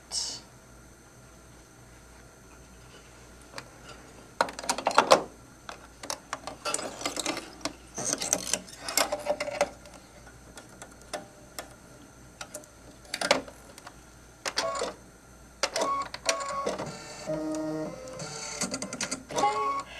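Embroidery machine stitching a tag during a live stitch-along, rapid mechanical ticking and clattering in intermittent bursts, loud and close, with quieter pauses between runs and some talk.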